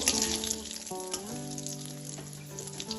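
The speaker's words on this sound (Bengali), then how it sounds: "এবার পটল ভাজার এই তেলের মধ্যে আমি দিয়ে দিলাম 2টো শুকনো লঙ্কা ফোড়ন আর 1/4 চামচ গোটা জিরে" Two dry red chillies and whole cumin seeds temper in hot oil left from frying pointed gourd, giving a steady, close sizzle with a melodic tune playing over it.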